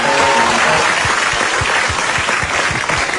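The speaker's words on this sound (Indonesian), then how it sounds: "tepuk tangan buat Cinta Laura" Studio audience on an Indonesian comedy talk show clapping loudly and continuously, a dense, close burst of applause with some individual sharp claps standing out.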